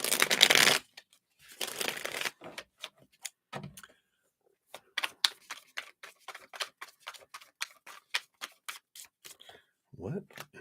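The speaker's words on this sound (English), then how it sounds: "let's shuffle these one more time here" Cards being shuffled close up: a broad riffle burst, then a long run of quick, crisp flicks, followed by a short thump at the end.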